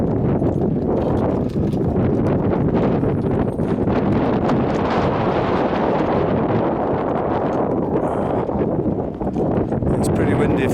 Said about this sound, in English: It's pretty windy if you can't hear that.